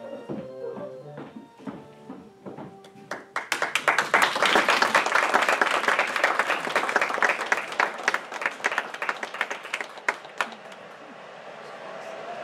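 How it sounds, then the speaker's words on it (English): A theater audience bursts into loud, sustained applause that swells after a few seconds of quieter sound, stays dense for several seconds, then thins toward the end. "I've never heard applause like it."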